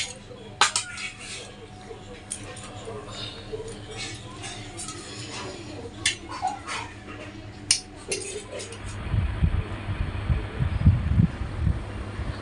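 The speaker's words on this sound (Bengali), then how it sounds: "মা এই যে ভাত বেড়ে দিচ্ছে" Dishes and cutlery clink in short bursts as rice is served onto plates at a home meal of fish curry and fried vegetables, with steady background noise and a louder low rumble near the end.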